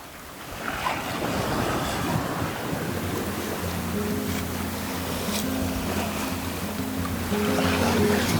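Sailboat running with mainsail and jib poled out: steady rushing wind buffeting the microphone over continuous wave and hull wash, with a faint low tonal hum underneath.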